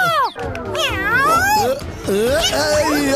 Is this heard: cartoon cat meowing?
yes